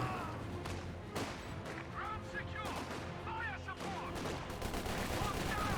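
Gunfire from a World War II real-time strategy battle in Company of Heroes 2, with a 6-pounder anti-tank gun firing on a tracked vehicle. Sharp, scattered shots and bursts mix with distant battle din beneath continuous commentary.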